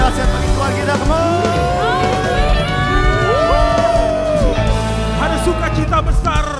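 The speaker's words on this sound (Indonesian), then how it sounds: "Tepuk tangan yang dahsyat bagi Tuhan kita" A church congregation erupts in loud, sustained cheering and whooping, many voices shouting together up close with a continuous crowd roar underneath.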